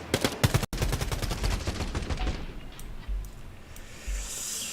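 Rapid gunfire rattles in the Quantum League video game, a fast regular burst of close, sharp shots that slows and fades into scattered distant pops and background noise.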